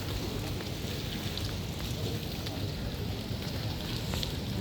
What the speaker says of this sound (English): बारिश कुछ ज़्यादा ही हो गई शायद